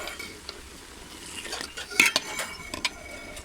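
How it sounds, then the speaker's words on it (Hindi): A spoon stirring milk and grated carrots in a pot, with light scraping and clinks of metal against the pot, a few sharper knocks in the middle, over a soft simmering hiss. "अपने चम्मच को मुसलसल हिलाते रहना ताकि ये"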